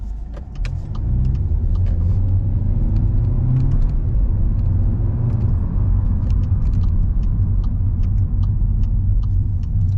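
A 2022 VW Golf Life with a 1.4 litre engine accelerates, its low engine rumble and road noise swelling steadily from inside the cabin with faint ticks over the top and no talk.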